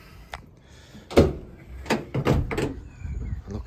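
Rear doors of a 2017 Ford Transit Custom van with a substantial internal racking system unlatching and swinging open, several sharp metallic clunks and rattles in quick succession, close and fairly loud, followed by lighter handling knocks.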